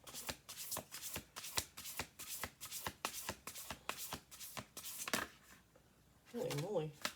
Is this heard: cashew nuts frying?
no